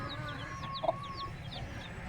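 Chickens in a farmyard where roosters are kept, with steady soft clucking and high peeping calls repeating against a continuous outdoor background, plus one brief louder cluck near the middle.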